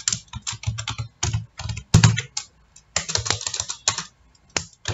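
Rapid bursts of keystrokes on a computer keyboard while writing Spring Boot code, close and crisp, coming in irregular clusters with brief pauses between runs, with no voices.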